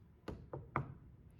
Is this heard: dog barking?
no